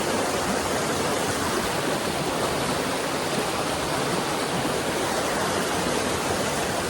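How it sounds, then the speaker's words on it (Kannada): A small waterfall pours in a constant, dense rush of water, steady and close, with no voices. "ಮಿನಿ ಜಲಪಾತ"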